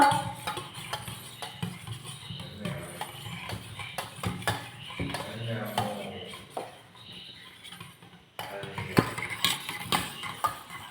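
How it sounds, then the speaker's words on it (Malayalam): A spoon clinks and scrapes against a bowl while chopped onion is stirred into beaten egg, giving irregular light metallic ticks and a soft swishing under a person talking. "സവാള ഇട്ട് കൊടുക്കാം. ഇതിന് നന്നായി കലക്കുക."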